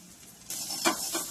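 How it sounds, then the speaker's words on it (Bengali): Chopped onion with turmeric, chili, coriander and cumin powders fries in a pan for doi tikari: a quiet start, then a sizzle rising sharply with a couple of stirring scrapes, close by. "মশলাটা একটু ভাজা ভাজা হয়ে গেছে"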